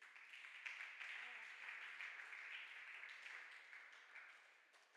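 Church congregation clapping and applauding for Jesus during a worship service, a steady, fairly soft wash of many hands heard from a little distance, running for several seconds, with a sharp louder sound at the very end.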